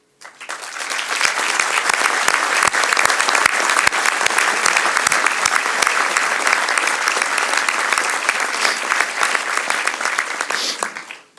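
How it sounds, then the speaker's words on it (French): An audience at a New Year's greetings ceremony in Tournon-sur-Rhône applauds the elected officials. The clapping rises quickly and stays loud and sustained, a dense wash of many hands that tapers off near the end. "je voudrais vraiment ce soir que vous les applaudissiez"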